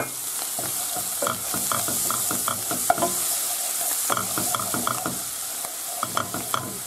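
Garlic, parsley and flour sautéing in a pan for hake in green sauce, a continuous bright sizzle with frequent clacks and scrapes from a spoon stirring, close and steady.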